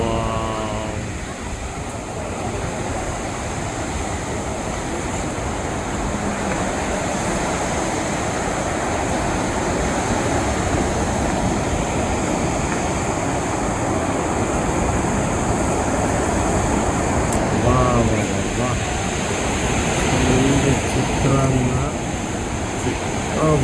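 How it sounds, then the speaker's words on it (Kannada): Barachukki Falls pours in a constant, dense roar of rushing water, loud and steady, with wind buffeting the microphone and brief voices audible beneath it. "ಬರಚುಕ್ಕಿ ಫಾಲ್ಸ್"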